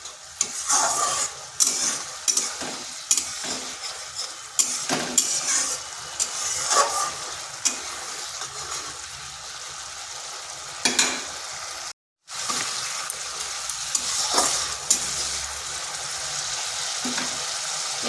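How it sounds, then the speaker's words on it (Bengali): Spice masala being sautéed in a pan for a vegetarian cauliflower and potato kalia curry, with a close, steady sizzle broken by repeated stirring scrapes and one brief silent gap. "মশলাটা ভালো করে কষিয়ে নিতে হবে।"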